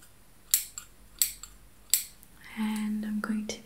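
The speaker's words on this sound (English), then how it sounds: "Scissors with me," Scissors snipping close to the microphone in a quiet ASMR session, three crisp separate snips followed by soft whispering.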